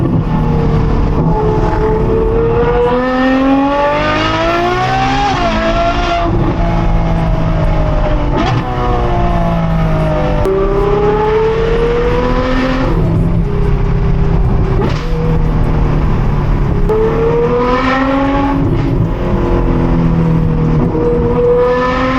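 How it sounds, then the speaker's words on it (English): A loud Corvette sports car engine roars and revs continuously, pitch rising and falling through gear changes, close and dominant throughout. "This car is so loud."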